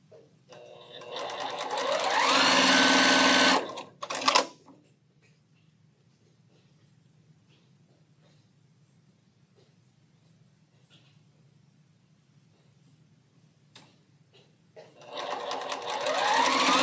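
A sewing machine stitches a quilt block in two loud, fast-running bursts, one near the start and one at the end, with a quieter stretch of faint handling noise between them.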